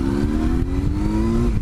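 Motorcycle accelerating close by, a loud steady engine drone with a slowly rising pitch through one short pull, no voices over it.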